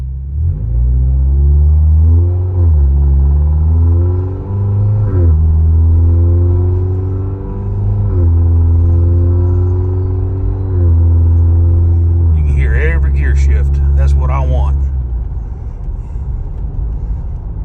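A pickup truck engine revs loud and close, climbing in pitch and dropping with each gear change in repeated steps, ending with a rattle.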